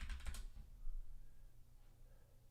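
Typing on a computer keyboard, a quick cluster of close clicks at the start that fades into faint scattered taps over a low background hum, with no speech.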